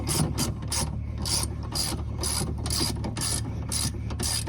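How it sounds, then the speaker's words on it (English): A ratchet wrench tightens the upper A-arm bolts on a Club Car golf cart, giving a steady run of rhythmic clicking strokes, close and continuous, with no talking. "once everything's started, you just tighten them up"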